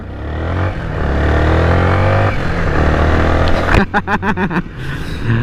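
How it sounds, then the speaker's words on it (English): A Yamaha Sniper 155 motorbike launches hard from a traffic light, its engine droning steadily and then revving in a quick rising series of shifts near the end, loud and close with no talk over it. "when the light turns green, we're gonna do a launch"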